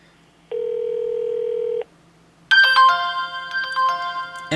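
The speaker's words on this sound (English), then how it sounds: "Alright, so it's dialing" Acer DX900 dual-SIM mobile phone sounding a steady electronic dialing tone for about a second, then a brighter multi-note ring melody with shifting tones, clear and close with no talk.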